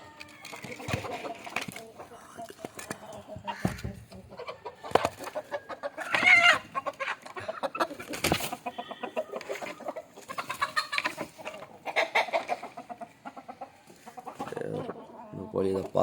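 Country chickens clucking as their coop is opened in the morning, a close, busy chorus of repeated clucks and squawks from several hens, uneven and overlapping, with someone talking intermittently in between.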